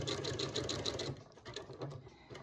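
A sewing machine zigzag-stitches a coiled rope bowl, its needle running in a quick rhythmic burst of clicks for about a second before slowing into a few softer, uneven stitches.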